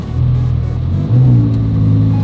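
A Lamborghini engine revs in a steady low rumble while the car reverses up a slick, snow-covered slope, with a louder surge in revs about halfway through.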